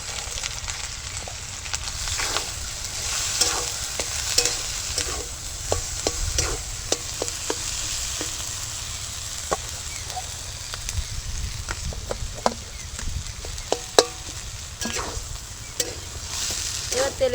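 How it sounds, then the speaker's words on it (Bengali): A mashed mixture of beetroot, carrot and potato for vegetable chops fries loudly in hot oil. Under a continuous close sizzle come repeated scraping clicks as it is stirred and turned in the pan, with no one talking. "এবার তেলের মধ্যে এটাকে ভাজতে হবে।"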